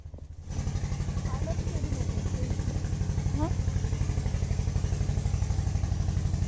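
A motor boat engine starts up and settles into a steady, loud chugging throb close by, with faint voices briefly audible over it.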